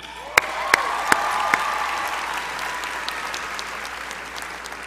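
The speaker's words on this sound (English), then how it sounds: "Let's round of applause" Applause from the audience at a high school graduation ceremony, a dense wash of clapping from a large crowd with a few sharp, louder claps near the start, then fading to a softer patter.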